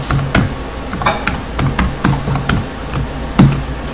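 Rapid, uneven clicks of a computer keyboard as a password is typed, the keystrokes close and crisp and coming in short bursts with brief pauses between.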